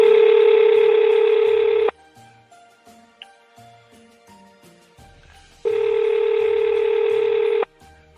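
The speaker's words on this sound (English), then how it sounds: "better answer it before it goes to voicemail" A phone call ringing before voicemail: two long, loud electronic ring tones, each lasting about two seconds, separated by a quiet gap with faint background music.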